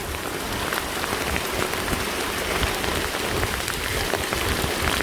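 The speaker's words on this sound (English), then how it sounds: "hard rain, innit?" Hard rain mixed with hail pelts down steadily in Wallasey, Liverpool, during a May hailstorm, a dense, continuous hiss and patter with no pauses, loud and close throughout.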